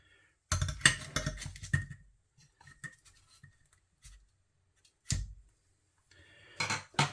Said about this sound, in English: let's get one out, cut it open and see if it's cooked